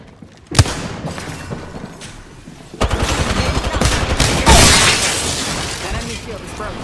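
Gunfire in Apex Legends: a sharp, sudden shot, then a long stretch of dense automatic fire with shattering impacts, loud and close, while a voice speaks over the shooting.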